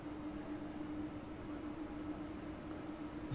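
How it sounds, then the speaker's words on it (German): A train pulling into Kassel-Wilhelmshöhe station in the video game Train Sim World 3, a faint steady rumble with a sustained low tonal hum and a broad hiss. "Unser Zug wird hier gleich einfahren."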